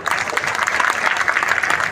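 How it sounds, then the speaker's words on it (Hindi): Loud, dense applause from a crowd at an open-air Hindi poetry gathering at a fairground in Lakhimpur, continuous rapid clapping with a close, full sound throughout. "यदि आप आशीष दें अपनी तालियों से"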